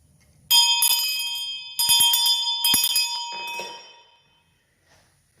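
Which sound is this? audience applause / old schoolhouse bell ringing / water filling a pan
old schoolhouse bell ringing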